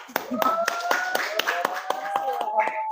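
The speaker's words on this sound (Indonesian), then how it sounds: "Tepuk tangan lagi dong buat anak dong" Studio podcast hosts clap their hands in a regular rhythm of about a dozen sharp, close claps, with a voice and tonal sound running underneath.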